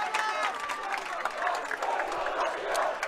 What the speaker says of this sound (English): Gets a well-deserved round of applause.